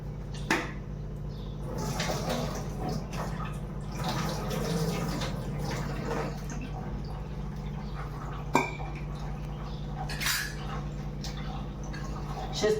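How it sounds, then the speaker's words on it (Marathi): Running water splashes steadily while a ridge gourd is washed under a tap, close and moderately quiet, with a few soft drips and knocks over a continuous low hum. "दोडका धुवून घ्यायचा चांगला."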